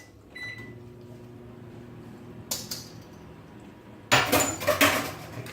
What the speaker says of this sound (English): Just stick it in the microwave